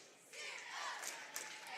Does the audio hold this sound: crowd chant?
yes